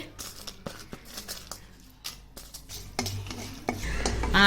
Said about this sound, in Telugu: ఎండుమిరపకాయలు వేసుకుందామండి